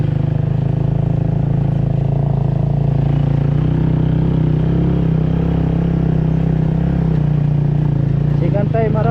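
Honda Raider 150 motorcycle climbing the road up to Tagaytay, its engine droning steadily and close for the whole stretch, with a brief voice near the end.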